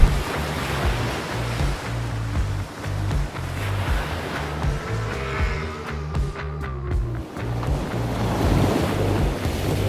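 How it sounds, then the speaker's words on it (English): Ocean waves wash continuously onto a beach in South Lombok, Indonesia, with a steady roar of surf and wind buffeting the microphone; no one speaks. "Good morning and a beautiful day to you from the most gorgeous beach in Lombok."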